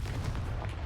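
A Confringo fire spell goes off in the Hogwarts Legacy video game as a dense, rumbling burst of blast noise that fills the whole second with steady low roar, with no speech.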